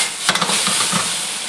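Beef fried rice frying in a hot wok on full heat, a loud continuous sizzle and hiss with a few quick scraping tosses near the start.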